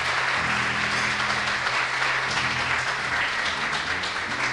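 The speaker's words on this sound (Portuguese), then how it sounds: "Você pode dar uma salva de palmas para Jesus?" A church congregation applauds in praise of Jesus, a dense, steady wash of many hands clapping throughout, loud and close, with a low murmur of music or voices underneath.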